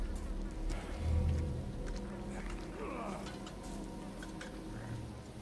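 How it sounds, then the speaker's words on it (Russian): Flies buzzing in a village scene in the Resident Evil 4 Remake video game, a steady insect drone with fainter passing buzzes over low ambient game sound. "Я вот мух слышу больше, чем мужиков"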